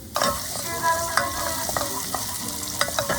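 Garlic and cumin seeds roasting in oil in a pan for chickpea curry, a steady close sizzle broken by scraping stirs and small clinks of a spoon against the pan, with no talking.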